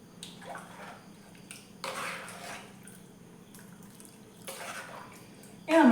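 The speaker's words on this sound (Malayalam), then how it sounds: "മിക്സിയുടെ ജാറ് കഴുകിയ വെള്ളം ഇച്ചിരി കൂടെ നമ്മൾക്ക് അതിലേക്ക് ഒഴിച്ചു കൊടുക്കാം" Water rinsed from a mixer jar is poured into a prawn and drumstick masala curry, coming as a few short splashing pours with quiet gaps between them and a louder clatter at the very end.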